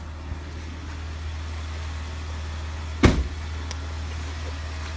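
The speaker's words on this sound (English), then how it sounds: "I'd like to just go out and let you look underneath the hood, listen to the engine." Ram truck with a 3.6 liter DVT V6 idling, a steady low hum with a sharp clunk partway through.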